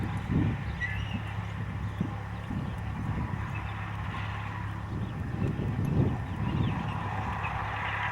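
Horse hooves clip-clop softly during a dressage riding session in an arena, an irregular series of muffled footfalls in the distance over a steady background hum.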